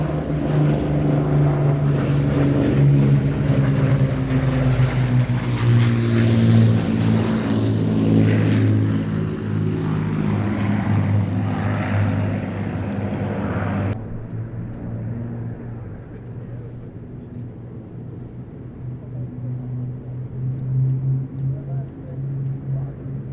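The Battle of Britain Memorial Flight Lancaster passes over the Midlands Air Festival, its four piston engines giving a loud, deep droning roar that sweeps past and then fades to a distant hum; a voice speaks over a public address.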